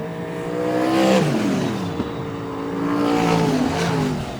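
Modified race cars roaring around the oval at Greenstone Park Speedway, engines revving hard and rising and falling in pitch as they battle side by side, loud and close with no talk over them.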